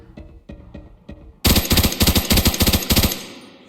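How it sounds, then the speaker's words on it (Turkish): M16 rifle gunfire in the Arena Breakout shooter game: a few spaced single shots, then a loud, dense burst of rapid automatic fire lasting about a second and a half before trailing off, with no talk. "Tek tek vurmam lazım abi."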